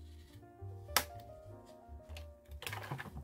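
A knife slicing off a raised ridge along a groove while making a ribbon-holder tag, with one sharp crisp cut followed by a cluster of quieter scraping clicks near the end, close and fairly soft.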